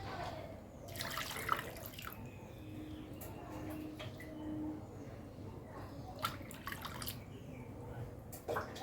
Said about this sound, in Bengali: এবার আমি দেবো এর মধ্যে পাঁচ বাটি জল